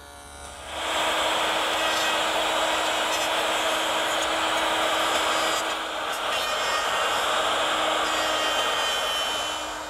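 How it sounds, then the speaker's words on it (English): A table saw with a stacked dado head set to quarter-inch width cuts a groove in pine, a loud continuous high whine that starts abruptly and holds steady for several seconds. "Now with the stacked dado head reduced to 1/4 inch in width,"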